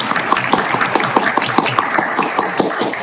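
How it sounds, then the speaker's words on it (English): An audience at a university honors program presentation applauds, with separate claps landing in a loose, steady rhythm, fairly close and moderately loud. "Hold for applause."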